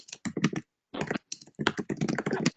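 Computer keyboard typing comes through an online webinar call: several quick bursts of clicking keystrokes with short gaps between them, fairly close and clear, with no talk over it.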